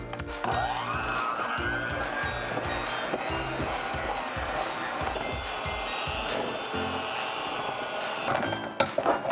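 Oreo dip with powdered sugar and vanilla being mixed by an electric mixer, likely a hand mixer, giving a continuous whirring drone with rhythmic thumping and knocking from the bowl throughout, ending in a few sharper clacks.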